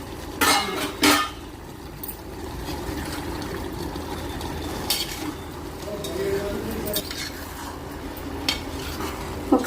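Bagara rice is stirred in a pot, with scraping spoon strokes and clinks against the metal, a few louder knocks near the start, over a soft, steady background.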